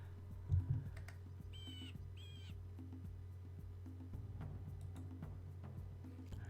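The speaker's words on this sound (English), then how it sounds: "My clicky-clacky keyboard, I love it." Clicky mechanical computer keyboard tapped in sparse, scattered keystrokes, faint and close, with a brief louder knock near the start and a couple of short tonal chirps in the background.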